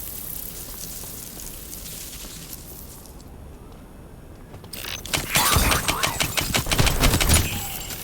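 Gunfire in the indie first-person shooter game Out of Action: a quiet, hushed stretch gives way to a loud, dense burst of rapid shots that rattles on for a few seconds, close and with no talk.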